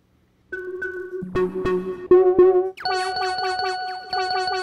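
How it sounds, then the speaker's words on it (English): Bright bell-like melodic hits in a music production, starting with a few sustained tones and building into a dense, ringing pattern of layered bell notes with sharp attacks and shimmering overtones, loud and with no voices. "Oh, I like that. I like the bell."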